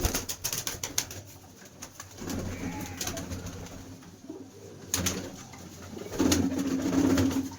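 Low cooing from teddy pigeons in a loft in Berhampore, Murshidabad, swells and fades nearby, with brief rustles and faint wing flutters mixed into the steady ambient hum.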